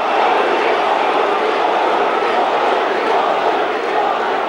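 A large crowd of around 5,000 Indians roars and cheers in a steady, loud wall of sound, welcoming Narendra Modi at a gathering in Shanghai, with no break over several seconds.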